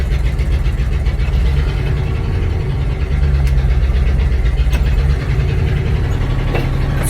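A 1965 Cadillac hearse engine runs at a high idle, a loud steady low rumble that holds close and constant with only slight swells throughout.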